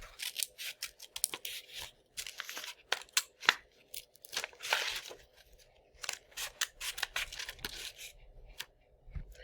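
Scissors snip steadily through paper while a craft shape is cut out, a close, quiet run of crisp cuts with occasional rustling and crinkling of the sheet between strokes.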